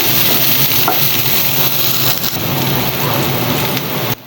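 Chopped onions sizzle steadily in a hot pan for a bangus steak dish, with soft scraping stirs over the close, constant frying hiss.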